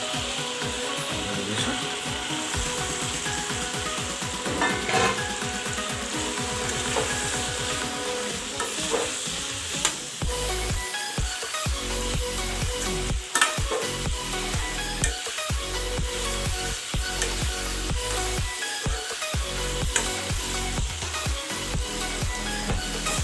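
Potatoes fry in a pan and are stirred, making a steady loud sizzle with repeated scraping and knocking strokes that come in irregular bursts. It stays close and continuous throughout, with no voices.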